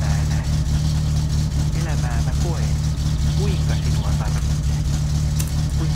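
A car engine idles with a steady low-pitched drone and strong vibration in the game My Summer Car, its muffler missing. The engine runs continuously through the clip, loud and close, with faint other sounds above it.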